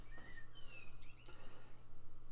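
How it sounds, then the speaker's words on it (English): Birds chirping outside an open window on a hot day, thin high calls and short tweets drifting in faintly from a distance over a low steady room hum. "You might be hearing birds. My window's open."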